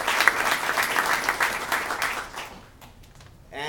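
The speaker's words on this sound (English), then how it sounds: "you deserve a round of applause" Applause from an audience at an organ donor awareness day event fills the room, a dense steady clatter of many hands for about two and a half seconds before quickly thinning out and fading to near quiet.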